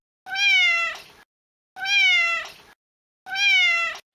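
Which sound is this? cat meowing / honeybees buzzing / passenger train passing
cat meowing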